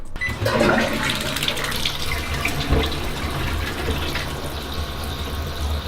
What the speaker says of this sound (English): it'll flush itself, but you can also use different flushes here.